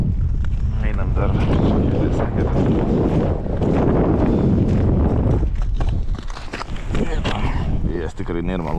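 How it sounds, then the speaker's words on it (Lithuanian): Strong wind buffets the microphone on a frozen lake during ice fishing near the Latvian border at Žagarė, a loud continuous roar with gusts throughout. "Vėjas tikrai nėra malonus."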